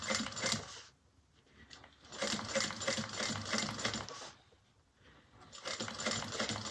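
Sewing machine stitching a bag, a fast mechanical rattling whir in three runs separated by short pauses, close and fairly quiet.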